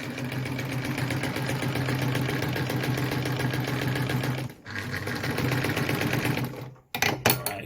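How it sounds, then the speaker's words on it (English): A Phoenix E10 sewing machine runs a regular straight stitch through layered denim, a steady rapid needle chatter that pauses briefly partway through, then ends in a few short bursts. "when I sew through, I'm sewing the regular straight stitch"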